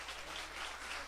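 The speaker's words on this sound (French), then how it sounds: "je vous demande d'applaudir quand même." Indoor audience applause at a neighbourhood performance event, a dense, even wash of clapping heard faintly throughout the short stretch with no voices.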